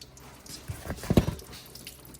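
Water poured from a canister splashes and trickles into the door of a BMW X1 E84 with a leaking door seal, faint and close, with a few louder splashes in the middle.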